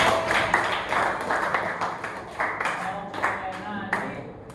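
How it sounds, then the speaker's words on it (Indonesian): A group of young people at an aquatics session clapping their hands together, a loose burst of claps that thins out, with talking mixed in. "Tepuk tangan dulu."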